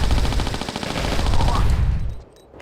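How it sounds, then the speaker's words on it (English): Lara's weapons firing in the Tomb Raider: The Last Revelation video game, a loud rapid burst of gunfire that runs continuously for about two seconds, then cuts off into quiet. "As soon as she points her weapons, just fire."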